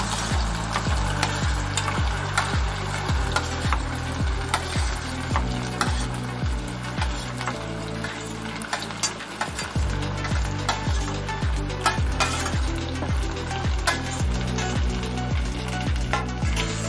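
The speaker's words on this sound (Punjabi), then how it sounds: "ਇਹਨੂੰ ਆਪਾਂ ਨਰਮ ਹੋਣ ਤੱਕ ਲਈ ਇਹਨੂੰ ਆਪਾਂ ਫਰਾਈ ਕਰਨਾ ਹੈ ਚੰਗੀ ਤਰ੍ਹਾਂ" Taro root (arbi) frying in hot oil for a Punjabi dish, a steady loud sizzle broken by repeated scraping and stirring strokes of a utensil against the pan, with no talking.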